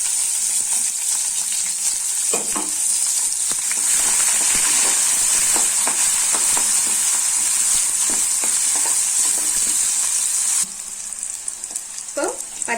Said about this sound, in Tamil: இப்ப நம்ம வெட்டி வச்சிருக்கிற வெங்காயத்தை ஆட் பண்ணிக்கலாம்